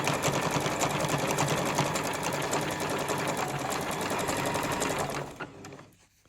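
A sewing machine stitches fabric for a Christmas sack, a loud rapid steady whir of needle strokes running close for several seconds, then stopping abruptly.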